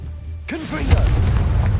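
Confringo spell blast exploding in the video game Hogwarts Legacy, a single sudden boom followed by a rumbling tail, with a voice casting at the same moment.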